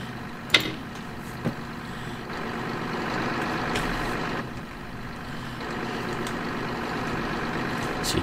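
A Deutz Fahr 2680 combine harvester engine runs in Farming Simulator 22, a steady low drone with a couple of sharp clicks near the start and no talking.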